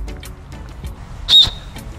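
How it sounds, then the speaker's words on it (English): A small plastic safety whistle on a camera and drone backpack chest strap gives one short, shrill blast of about a quarter second, loud and close, over quiet room noise. "They even have a whistle."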